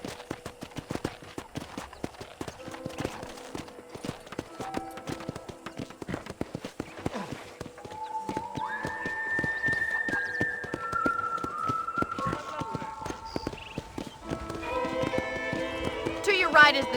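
Horse hooves clip-clop in a steady walking rhythm in Red Dead Redemption, crisp and close, with a whistle and faint musical tones joining later.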